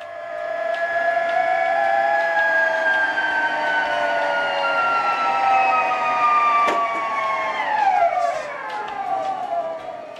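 A steady mechanical whine from a supercritical fluid extraction pump pressurizing, several tones gliding slowly upward in pitch, continuous and fairly loud, ending in a brief sharper pitch shift.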